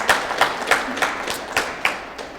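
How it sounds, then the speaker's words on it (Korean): An audience at a Korean event celebrating an ALMA-winning picture book author claps together, giving short rhythmic bursts of applause that pulse roughly every third of a second, close and fairly loud. "박수 한번 좀 주실래요?"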